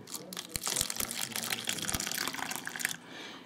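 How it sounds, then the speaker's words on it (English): Really hot water is poured from a tap-like stream into a container holding wool with lanolin to be melted, making a steady close gushing and splashing that runs for about three seconds before ending, with no talk over it. "And then you're going to put really,"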